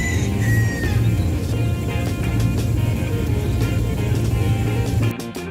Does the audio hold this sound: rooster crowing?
yes